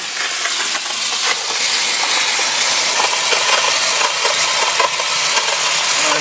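Steam hissing during a steam turbine test at about 30 psi, a dense, loud broadband rush that runs steadily the whole time with slight fluctuations and no voices.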